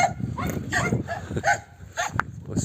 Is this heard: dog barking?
yes